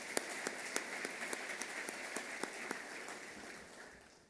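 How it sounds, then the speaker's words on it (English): A conference room of people applauds at a CEO summit, with sharp individual claps over a steady patter that gradually fades out, heard from a distance. "So let's give them a round of applause as well."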